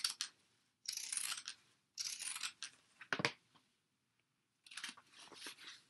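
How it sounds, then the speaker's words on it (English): Pinking shears trimming the seam allowance of a fabric tote bag, crisp bursts of snipping and crunching cuts separated by short silent pauses, close and fairly quiet with no talking. "And I'm going to use my pinking shears on the whole thing."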